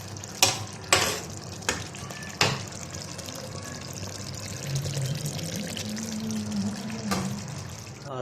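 Aloo gobhi, potatoes and cauliflower, cooking in a pan: a soft steady sizzle with several sharp clatters of a spoon stirring early, and a low bubbling later.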